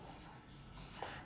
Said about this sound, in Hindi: चलिए लिखता हूं मैं